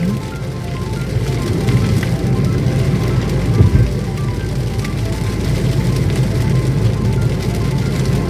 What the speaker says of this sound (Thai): ตอนนี้ก็ฝนตกหนักนิดหน่อยครับแต่ก็ไม่หนักมาก